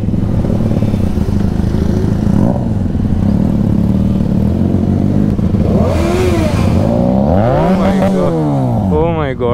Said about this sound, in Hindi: अब हम बाइक गुजारेंगे ड्राइव थ्रू में से